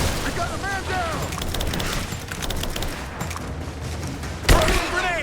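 Combat gunfire in Rise of the Tomb Raider: a dense fusillade of shots over a rumbling battle din, with voices shouting, and one louder blast near the end.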